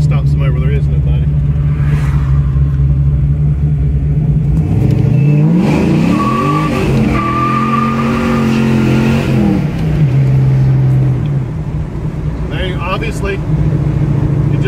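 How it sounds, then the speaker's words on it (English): Fox Body Mustang fitted with a Pro M EFI system, traction control off, revving hard in first gear as the rear tires spin up to the rev limiter; a loud, rising engine roar that climbs steeply, holds near the limiter, then drops back to idle. "Obviously, it just spins pretty much to the rev limiter in first gear, just really quick"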